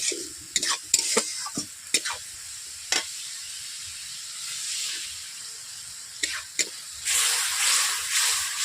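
Spice masala for a pumpkin and soybean dhoka fries in a pan, with a soft sizzle and a series of sharp spatula scrapes, then a louder surge of hissing near the end.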